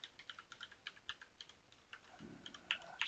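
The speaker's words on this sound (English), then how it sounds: "Just going to type this manually" Quiet, rapid keystrokes tap on a computer keyboard while text is entered into an Excel spreadsheet, a faint, uneven clatter with no speech.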